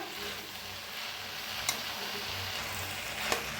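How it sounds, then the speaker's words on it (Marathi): Finely chopped spring onion greens sizzle softly in a pan, a steady, fairly quiet frying hiss with two brief sharp clicks of a spoon against the pan while stirring. "आता मिक्स करून छान मिक्स करूया"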